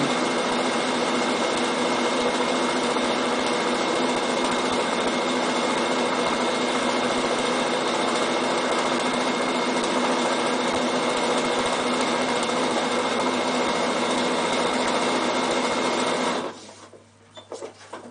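A Bernina sewing machine quilting fabric for a casserole carryall cover runs with a steady, loud, close mechanical whir before it stops abruptly near the end.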